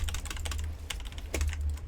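Rapid, steady typing on a SteelSeries Apex Pro Mini wireless mechanical keyboard, dense close-up key clacks running without pause and with no talk.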